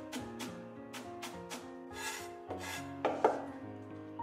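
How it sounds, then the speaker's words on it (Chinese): A knife works through fresh ginger on a cutting board, cutting slices, strips and mince, with evenly spaced crisp chops that quicken into rapid strokes over soft background music. "一块生姜先给它切片，然后给它切丝，最后切成姜末。"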